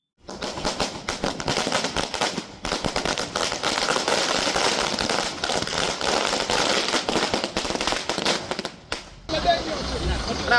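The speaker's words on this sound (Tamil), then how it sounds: "விஜய் ரசிகர்கள் பட்டாசு வெடித்து இனிப்புகள் வழங்கி கொண்டாடினர்" Fans set off firecrackers in celebration after a court verdict on the film Jana Nayagan: dense, continuous rapid crackling bursts for about nine seconds, loud and close, then a brief pause and scattered pops with crowd noise.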